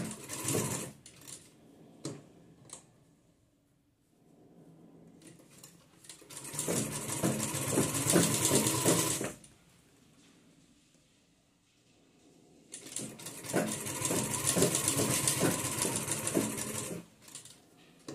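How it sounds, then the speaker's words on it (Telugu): A domestic sewing machine stitches a dress neckline in two sustained loud bursts of rapid rhythmic whirring, separated by quiet pauses filled with soft handling clicks and fabric shuffling; no voices. "మనము నెక్ స్టిచ్ చేస్తున్నామంటే చూసుకుంటూ నిదానంగా వేసుకోవాలి"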